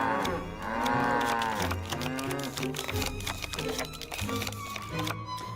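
Cows moo repeatedly in a video game farm scene, with long, drawn-out lowing calls layered over soft clicking and tapping sounds.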